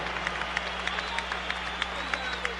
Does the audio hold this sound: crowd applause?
yes